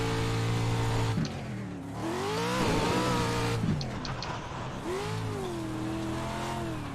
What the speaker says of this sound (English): So fourth, fifth, sixth, always shifting nice and early.